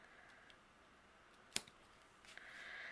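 Scissors snip once through overhanging pattern paper during cardmaking, a single close, crisp cut followed by faint handling rustle in a quiet room.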